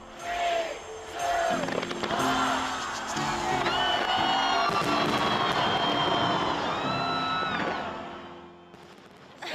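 New Year fireworks by the River Thames in London, a dense barrage of crackling bursts and whistling rockets over a cheering, whooping crowd, loud and continuous before fading at the end.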